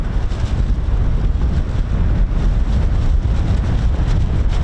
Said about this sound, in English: I did not think it was going to be this windy